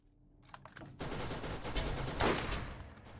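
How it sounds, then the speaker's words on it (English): Rocket launcher firing in the video game Borderlands, a dense roaring burst of gunfire-like blasts that swells after a quiet start and holds loud through the end. "Let's try this rocket launcher against this guy"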